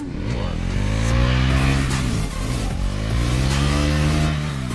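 A Bajaj Pulsar NS 400Z motorcycle engine revs loudly and up close, rising and falling through several throttle blips during wheelie practice, with no talking.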